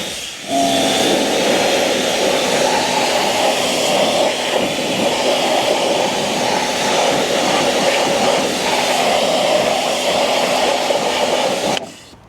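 A Karcher mini pressure washer blasts very dirty car wheel rims with a loud, steady, hissing spray that starts abruptly and runs for about eleven seconds before cutting off.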